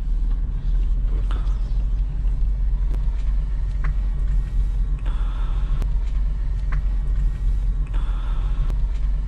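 A car driving slowly forward during parallel parking, giving a steady low engine rumble from inside the cabin, with a few faint clicks and no talk.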